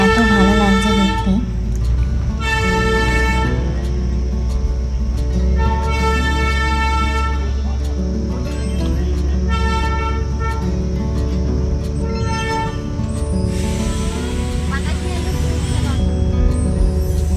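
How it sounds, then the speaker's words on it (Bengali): Darjeeling toy train sounding a series of repeated horn toots heard from on board while it rides, loud and close over a steady rumble of the moving carriages, with a longer blast near the end. "টয় ট্রেনে উঠে বসেছি"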